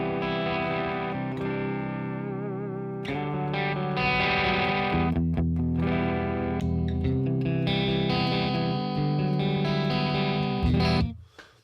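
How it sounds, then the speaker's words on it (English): Electric guitar with a clean, moderate all-around reverb, played through a Kiesel HyperRig plugin, ringing out sustained chords and melodic lines steadily and up close before cutting off at the end, with no talking. "Now we have a nice reverb that it's not shimmery, it's not too crazy"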